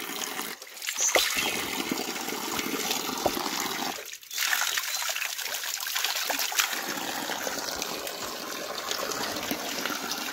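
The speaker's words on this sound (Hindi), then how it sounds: "डायरेक्ट नेचुरल है, कोई पाइप नहीं कोई कुछ नहीं, ये देख डायरेक्ट पानी आ रहा ऊपर" Natural spring water trickles and gurgles straight out of the ground in a forest, a steady close liquid dribble with a brief dip partway through and no speech.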